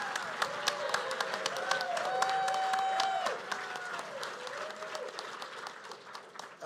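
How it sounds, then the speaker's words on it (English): Conference audience applause at a security convention, a dense round of clapping under a sustained tonal squeal of microphone feedback that rises and wavers, with a voice briefly heard. "One last round of applause for Christine."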